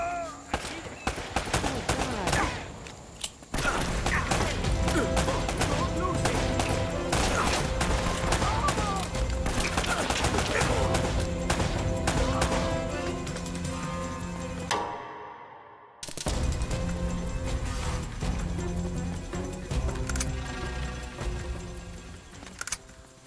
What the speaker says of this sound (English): Always seem to be getting shot at. They're shooting at you too, you know.